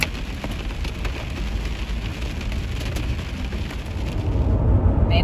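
Hail pelting down during a storm where cars are parked sheltering, a dense steady clatter of impacts that swells louder toward the end, with no talking.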